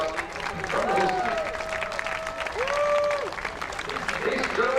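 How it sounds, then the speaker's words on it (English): Spectators at an international championship game between Canada and New Zealand applaud the 4 Nations Cup trophy presentation, a steady wash of clapping with tonal whistles or squeaks cutting through. "a big round of applause for him"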